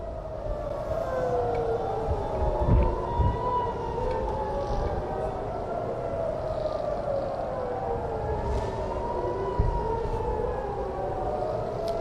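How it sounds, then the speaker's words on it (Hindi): Civil defense air raid sirens wail across Israel after an Iranian missile attack, several overlapping tones rising and falling slowly and continuously, moderately loud with a distant, outdoor quality and no talk. "ईरानी मिसाइल हमले के बाद इसराइल में सायरन बज उठे हैं।"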